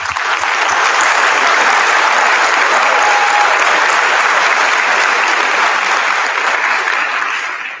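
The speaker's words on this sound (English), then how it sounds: "I want to give you a round of applause for that." A large audience at an 8th grade move-up ceremony gives sustained, loud applause. The dense clapping continues without a break for the full stretch and fades slightly at the end.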